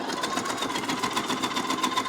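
Sonifer electric salad maker, a 1600-watt 22,000 rpm motor, chopping a carrot, a loud continuous whirring drone with a rapid pulsing flutter from the spinning blade, close and unbroken.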